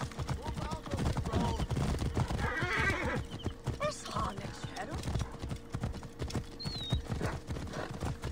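In the video game Assassin's Creed Origins, horse hooves clip-clop in a quick galloping rhythm close up, with a loud neigh partway through and other game sounds mixed in.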